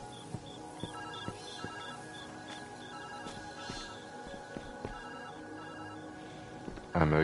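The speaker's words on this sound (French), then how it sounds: "Téléphone!" Telephone ringing in the puzzle game Viewfinder, faint repeated trilling rings sitting low under background music, with scattered light clicks and a louder burst of noise at the very end.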